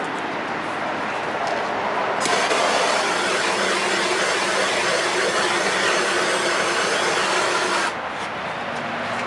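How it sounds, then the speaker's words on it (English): A torch roars steadily for several seconds while heating a vinyl graphic, a loud continuous hiss that starts and stops abruptly. "Okay, give me the torch."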